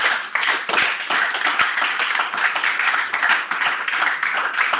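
A church congregation applauding during a sermon, dense and loud sustained clapping from many hands, energetic and continuous with no pauses.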